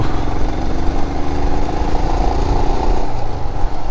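A Royal Enfield motorcycle engine thrums steadily and loudly on a solo ride toward Darjeeling. The low throb holds an even rhythm throughout with no speech.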